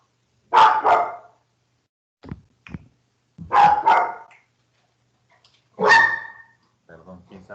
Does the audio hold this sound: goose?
no